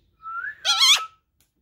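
A pet parrot whistles on command, one rising whistle followed by a brighter warbling phrase, close and clear against silence.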